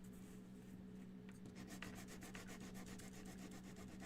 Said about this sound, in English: we're gonna sand our little pocket here